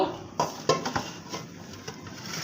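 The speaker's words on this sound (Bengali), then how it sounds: "যেন সিদ্ধটা ভালো হয় তাই একটু ভালো করে নেড়ে দেব" A spatula scrapes and knocks against a cooking pan as boiled greens are stirred, with a few sharp clanks and a soft background hiss, close up and with no talking.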